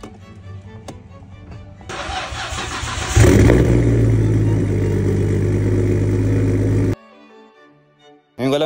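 A Nissan Skyline R33, parked unused for four weeks, cranks briefly and fires on the first try, then settles into a loud steady idle before cutting off and restarting near the end.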